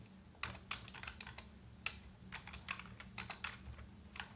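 Quick, light keystrokes on a computer keyboard while CSS code is written, an uneven patter of clicks at close range, soft and without talk.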